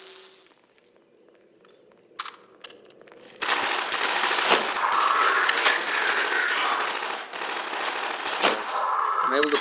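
Video game gunfire in a level playthrough: after a quiet start with scattered faint clicks, a loud continuous burst of rapid shots and battle noise runs steadily from the fourth second to the end.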